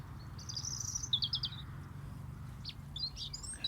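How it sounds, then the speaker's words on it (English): Several birds chirping outdoors on the Isle of Wight, bright short tweets and quick trilled runs coming in bursts over a low steady rumble of background noise, moderately near with no talking. "These birds are fantastic."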